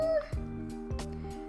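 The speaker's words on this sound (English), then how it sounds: "Ruby's standing outside the door meowing." A cat named Ruby gives a short, faint meow from outside a door, a brief tonal cry at the start followed by a couple of dull thumps indoors.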